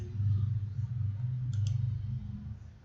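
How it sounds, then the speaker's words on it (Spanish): Two quick, sharp computer mouse clicks, one right after the other, land midway while a document is formatted, over a low humming room tone and faint background voice. "Hago un clic"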